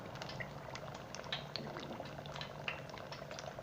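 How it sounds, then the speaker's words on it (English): A spring roll fries in hot oil, a quiet, dense crackle of small bubbles and sharp pops that runs steadily and close up, with no speech. "Got nice wee bubbles on the outer texture of the spring roll."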